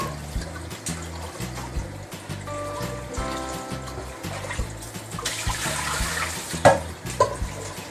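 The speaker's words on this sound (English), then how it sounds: "We're gonna rinse our pan with some cold water to help cool that pan down." Cold tap water streams into a pan to cool it down after draining pasta, a close, busy splashing and trickling over kitchen background music, growing brighter and louder near the end.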